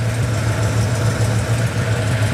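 A 1967 Cadillac Eldorado V8 with a true dual exhaust idles steadily up close, a deep, even rumble holding constant without revving or any voices.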